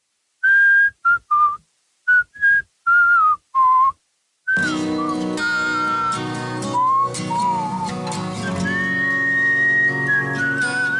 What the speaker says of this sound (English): I can whistle the start of this song very well.